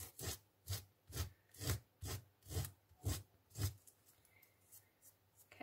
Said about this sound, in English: I've got some 120 grit sandpaper, and I just even it off.